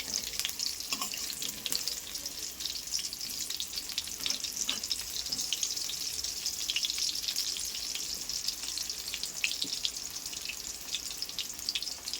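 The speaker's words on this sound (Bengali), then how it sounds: "সেই তেলের মধ্যে আলুগুলোকে ভাজতে হবে।" Potatoes tossed with turmeric fry in hot oil, a steady bright sizzle with crackling pops running throughout, close and continuous with no voices.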